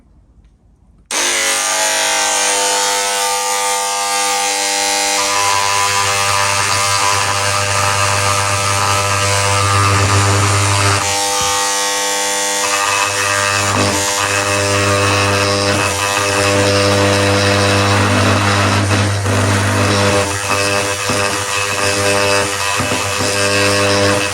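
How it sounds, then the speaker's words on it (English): An electric engraver cuts a deep mark into a metal car brake part, a loud, buzzing vibration with a strong low hum that runs almost continuously, pausing briefly midway. "the reason I want to engrave it is because chances are it's going to go on the wire brush"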